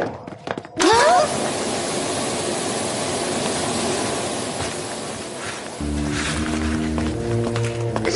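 Cartoon helicopter taking off after a short burst of noise, then a sustained loud whirring rotor and engine drone that shifts to a rhythmic pulsing chop near the end.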